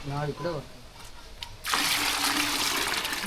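Water gushes and splashes steadily onto a Royal Enfield Bullet motorcycle being washed, starting partway through after a few moments of people talking.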